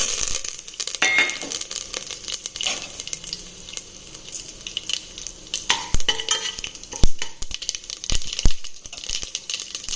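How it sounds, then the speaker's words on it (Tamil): Mustard seeds and curry leaves crackle and sizzle in hot oil, with sharp sputtering pops and spoon stirring scrapes scattered throughout, close by. "இப்போ கடுகு, கருவேப்பிலை சேர்த்து"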